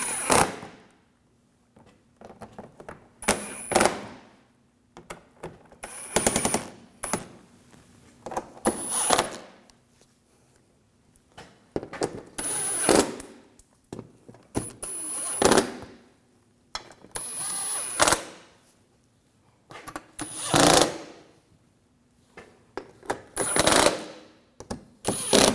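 Screws being driven in to secure the front bumper cover on a 2007-2013 BMW 328i, giving repeated bursts of ratcheting, whirring mechanical noise separated by short pauses, close and fairly loud with no talking.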